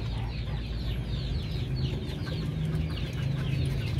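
Chickens cluck in a farmyard with a rooster among the hens, a dense, continuous chorus of close and overlapping clucks and murmurs with faint calls above.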